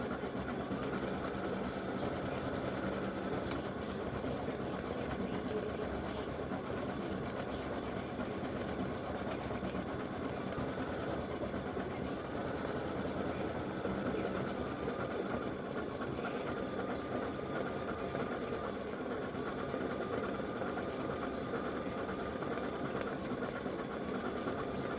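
An embroidery machine stitches a free-standing lace pretzel earring, running a steady, continuous mechanical whir with a rapid needle rhythm that holds evenly at close range the whole time.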